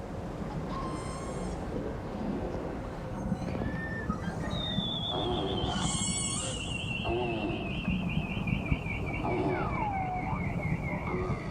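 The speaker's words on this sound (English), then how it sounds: "These talkative, whistling whales have been nicknamed the canaries of the sea" Beluga whales give off rising and falling whistles and short chirps, with one long sweeping whistle in the middle, heard faintly over a steady underwater-like background hiss.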